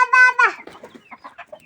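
A hen clucks up close, starting with a drawn-out squawk and breaking into short, choppy clucks, with a faint voice underneath.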